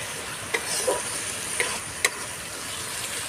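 Chopped tomatoes drop into hot oil for echor kalia, a raw jackfruit curry, frying with a steady soft sizzle and a few sharp spoon scrapes and clinks against the pan, no voices.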